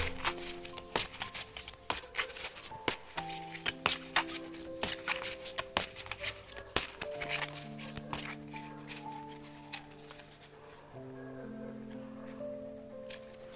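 Oracle cards being shuffled by hand, a run of soft papery riffles and light taps repeating close to the microphone, with faint tonal background music underneath and no talking.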